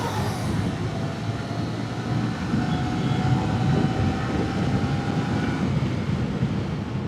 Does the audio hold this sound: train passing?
yes